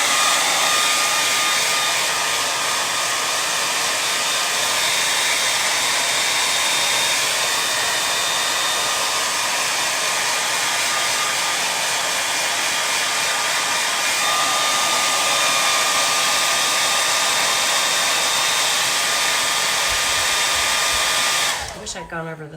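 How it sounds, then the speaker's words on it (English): A hair dryer blows steadily at close range over ink on a hanging banner, a loud continuous whooshing hum that holds for about twenty seconds before cutting off abruptly. "We're gonna hit this with a blow dryer"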